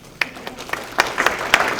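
Scattered applause from an audience at a criminal justice presentation on Indiana's sex and violent offender registry, a few sparse claps that thicken slightly, fairly faint and uneven, without talk.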